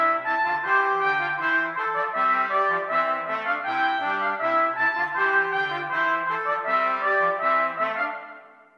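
Layered melodic lines overlap in a round, the same tune entering in each voice an octave lower than the last, played smoothly and continuously at moderate volume.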